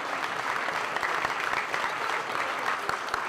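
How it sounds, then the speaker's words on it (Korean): An audience seated in a gym gives welcoming applause for guests at the start of a competition, dense sustained clapping from many hands, steady and moderately distant. "그들을 향해 환영의 박수를 보내는 사람들."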